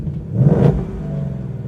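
A 2018 Ford Mustang GT Performance Package V8 set in track mode gives a short, throaty rev that swells and peaks, then drops back to a deep idling rumble, close and loud.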